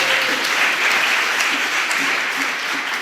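A church congregation at a convention applauding together, a loud, dense, sustained wash of clapping with a few voices mixed in.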